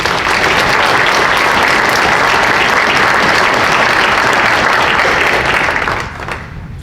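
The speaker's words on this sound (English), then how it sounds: "I think we need to give him and the veterans who have served our nation a round of applause." Loud, sustained applause from a banquet crowd honoring veterans at a chamber of commerce awards dinner, a dense steady wash of clapping that tapers slightly near the end.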